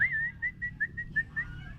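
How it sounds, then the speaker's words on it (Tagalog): Someone whistles a short series of clear, high notes, some sliding and some chirped, close by and alone. "Tapos po, ganun, sipol po kayo."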